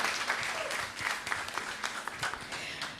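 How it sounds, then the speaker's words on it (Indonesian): Moderate, steady applause from an audience at the opening of a student arts festival and high school Pesantian contest in Buleleng, heard from a little distance with scattered individual claps. "Tepuk tangan untuk kita semua."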